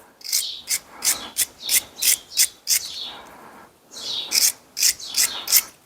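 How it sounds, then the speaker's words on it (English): A wire brush scrubs Loctite off a rear suspension part from a Jaguar XKR, making close, rhythmic rasping strokes, about a dozen in steady back-and-forth bursts with a short pause midway. "That's like the Loctite scrubbing away"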